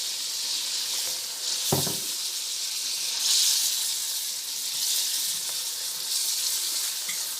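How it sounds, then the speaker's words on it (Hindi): Garlic ginger paste frying for chicken karahi, a steady hiss of sizzling oil running throughout, with one brief clank of a utensil near the start and no talk. "और सारी इसमें अब ऐड करने लगे हैं 2 खाने के चम्मच लहसुन अदरक का पेस्ट"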